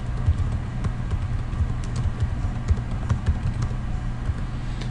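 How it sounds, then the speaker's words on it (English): Fingers typing on a computer keyboard, a quick irregular patter of light key clicks running steadily over a low background hum. "we can just type all of our information in"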